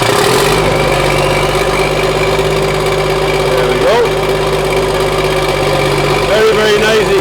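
An old engine runs loud and rough with its exhaust gone, a steady, harsh idle drone filling the whole stretch close by, with a brief voice speaking over it.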